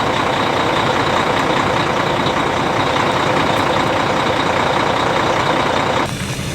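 A truck engine idles steadily and loudly up close, a dense continuous rumble that drops abruptly in level near the end.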